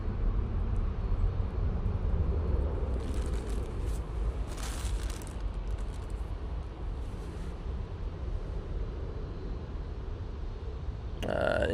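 Emirates airliner climbing away into the clouds, a broad, steady, rumbling engine roar that gradually fades, with a few gusts of wind buffeting the microphone and a sharp bump at the very end.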